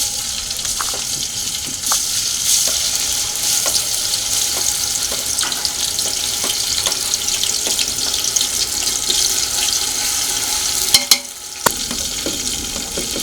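Ginger, chili and garlic paste sizzles steadily in hot oil, a loud continuous crackle with scattered pops and a few clinks of a spoon, briefly dropping away near the end.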